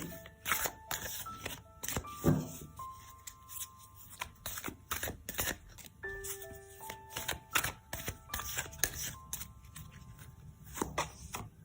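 Tarot cards are shuffled and dealt in a quiet room, with crisp riffles and flicks coming in irregular bursts, sharp slaps and soft sliding between them, and occasional faint tones in the background.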